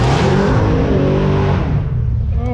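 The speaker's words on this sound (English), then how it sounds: "Sweet sounding Dodge Ram." A Dodge Ram truck at an outdoor car show gives a loud, close engine roar that fades as the vehicle pulls away over about two and a half seconds, with no one talking.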